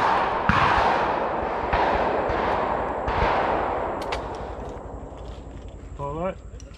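Shotgun blasts ring out on an outdoor sporting clays course. Several loud, spaced shots come in pairs, each with a trailing echo, and a short voice follows near the end.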